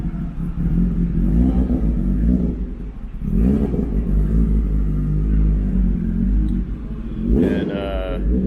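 A Ford Focus RS-RX rally car rolls past with a moderate rumbling engine that swells and eases, one stronger rev rising near the end.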